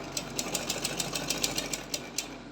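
A sewing machine runs steadily while stitching a cotton newborn's dress, its needle ticking in a fast, even rhythm over a constant motor whir; close and continuous, no talk.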